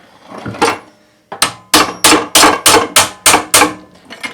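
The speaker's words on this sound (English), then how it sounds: "I like to hit it with a hammer or rubber mallet a couple times" Sharp, loud hammer or rubber mallet blows on the metal recoil starter clutch of a Briggs engine: one strike, a pause, then a quick steady series of about nine ringing hits, close up.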